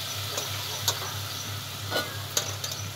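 Onions being stirred in a curry pan, a soft steady sizzle with a few sharp scrapes of the spoon against the metal, close and alone.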